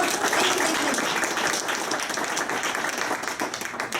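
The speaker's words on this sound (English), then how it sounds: "please stand up and let's give you a great round of applause" A standing audience at a Student of the Month recognition event gives a round of applause, many hands clapping in a dense, steady roar, loud at first and tapering slightly, with no speech over it.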